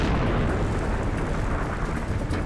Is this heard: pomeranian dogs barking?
no